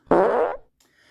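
A single loud fart sound effect from a creature feature movie, a short buzzy blast of about half a second, close and isolated, followed by near silence.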